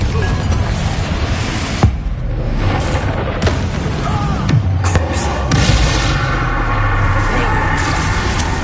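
Spell blasts from Bombarda and Confringo in the wizarding game Hogwarts Legacy, several loud booming explosions and crashes spread across the clip over dense continuous game noise.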